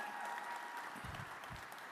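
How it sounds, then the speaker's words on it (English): Audience applause at an award ceremony for National Geographic, a full steady burst of many people clapping in a hall, with a few low thumps partway through and no talk over it. "let's get a round of applause"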